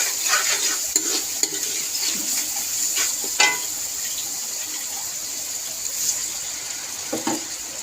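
Whole spices such as dried coriander and cloves roasting in oil in a pan for aloo baingan sabzi, with a steady sizzle, a spatula stirring and scraping several times, and no voices.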